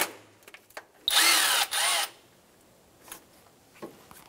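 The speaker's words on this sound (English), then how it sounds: "remove the Phillips head screw for the sensor bracket on" A power screwdriver whirs in two short bursts, about half a second each, as it backs out a Phillips head screw from an AC compressor sensor bracket on a 2000-2006 Toyota Tundra 4.7L V8. Faint clicks and handling noises come before and after.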